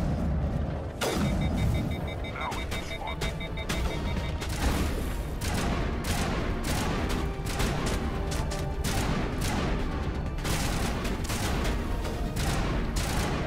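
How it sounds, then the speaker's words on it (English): Rapid, dense gunfire and sharp impacts from a sniper rifle in the Mass Effect video game, a loud continuous barrage of repeated shots and booms filling the whole stretch with no talking. "So that's what the sniper rifle does, which is pretty cool."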